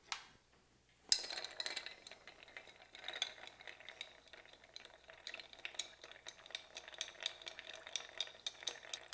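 Bar spoon stirs a martini with ice in a mixing glass after orange bitters are added, giving steady, close, rapid clinks and ice rattles that run continuously after a brief quiet start.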